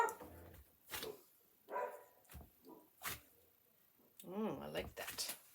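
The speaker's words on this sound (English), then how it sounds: "my dog's gonna bark maybe." A dog barks several times in short separate bursts during a home art session, with a person talking in between and over some of the barks.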